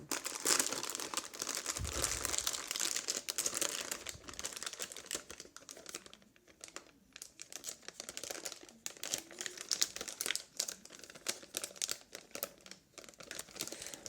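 Packaging paper around a newly unboxed ASUS GTX1080 Strix graphics card crinkles and crumples in a dense, steady run of close, loud rustling that lasts the whole stretch without any talk.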